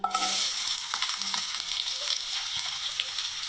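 Medium onion frying in two to three tablespoons of oil in a pan for a soya chunks tomato curry: a steady, close, crackling sizzle with occasional pops and stirring scrapes, with no voice over it.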